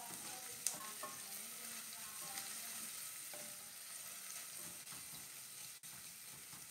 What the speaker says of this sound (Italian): sto facendo il soffritto di cipolla